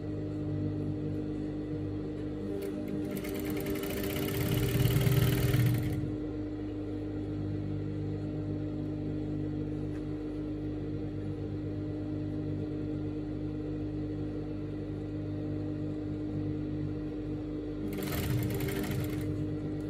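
A sewing machine stitches skirt fabric and lining for a mini pencil skirt, a steady close hum with two short bursts of faster, louder stitching.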